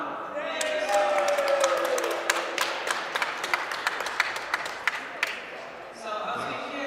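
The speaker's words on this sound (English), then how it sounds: "And who are cheering from Adam? Make a sound." An audience at an indoor archery competition claps and cheers, a scattered run of sharp claps and voices rising over several seconds in a reverberant hall, with some talking mixed in.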